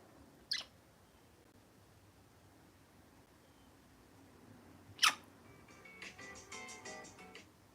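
A bird outdoors gives two sharp, isolated chirps several seconds apart, then a faint run of rapid twittering. The calls are distant and quiet over a low background hiss.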